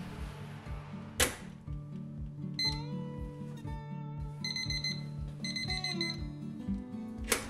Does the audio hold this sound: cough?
no